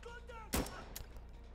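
A single loud gunshot from a soldier's rifle in the tactical shooter Insurgency: Sandstorm fires the last round of the magazine, and a few faint mechanical clicks follow from the emptied gun.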